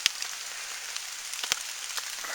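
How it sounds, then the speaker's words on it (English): Rain pattering on a surface near a hammock campsite, a steady soft hiss broken by a few sharper drops landing close by. "waiting out another spout of rain"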